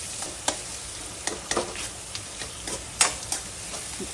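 Ground gongura leaves are stirred into hot oil for pickle, a close spoon scraping the pan in soft irregular strokes over a faint steady sizzle, with no talking.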